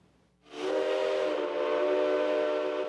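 A locomotive horn sounds on Kaohsiung's restored Hamasen heritage rail line, used by a tourist train. After a quiet moment it opens into one loud, sustained, steady blast that holds at full strength and stands alone without voices.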